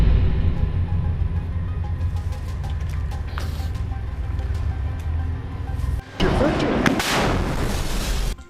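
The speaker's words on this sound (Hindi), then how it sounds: "अल कासिम के लड़ाके खंडहर पड़ी इमारतों में छिपकर सामने से आ रहे इजरायली टैंकों पर रॉकेट से वार करते हैं" Combat footage of fighters in ruined buildings in Gaza firing rockets at oncoming Israeli tanks: a steady rumble of gunfire, then a loud, sharp blast partway through followed by heavy, noisy roaring.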